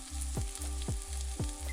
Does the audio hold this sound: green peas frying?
yes